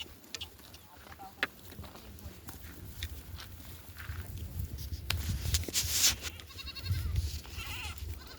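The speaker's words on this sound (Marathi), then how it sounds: "तर बघा शेळ्या पण जरा त्यात पाठीमागून शेळ्या आल्यात" A flock of goats and sheep bleat in scattered calls outdoors in midday heat, with hoof and rustling noise and a low background rumble.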